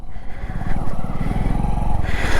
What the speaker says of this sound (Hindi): बाइक मैंने स्टार्ट कर दी, अब मुझे यहाँ से मुड़ना है, तो हम क्या करेंगे, हमेशा पहला गियर लगा के मोड़ेंगे।